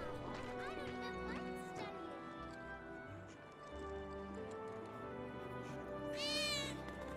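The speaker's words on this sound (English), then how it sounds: "I think one of Betty's cats might be nearby." A cat meows repeatedly in Final Fantasy VII Remake, rising and falling calls heard under background game music, with a sharper, higher meow near the end.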